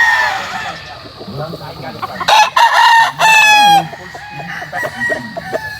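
Roosters at a gamefowl farm in Balele, Tanauan, Batangas: one loud, close crow rings out in the middle, with clucking and other birds around it and someone talking intermittently.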